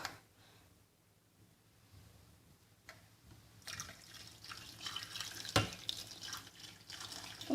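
Water pours and splashes into a pot for boiling a PS3 controller, starting quietly and turning to louder, steady close splashing after a few seconds, broken by one sharp clunk.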